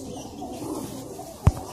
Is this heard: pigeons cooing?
yes